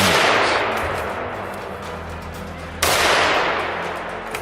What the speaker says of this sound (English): the forest was alive with the sharp reports of rifles